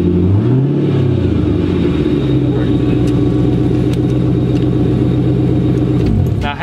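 A 1995 Ford Thunderbird's engine idles roughly and unevenly just after starting, sputtering and popping in an irregular rhythm, loud and close, with no talking.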